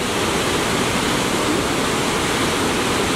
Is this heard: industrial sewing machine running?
no